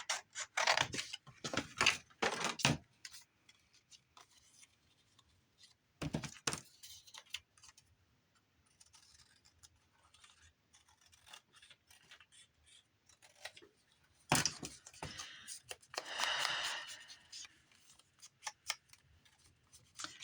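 Scissors snip through a paper file folder during a crafting session, with several bursts of close cutting and rustling separated by quiet handling, alone with no voices.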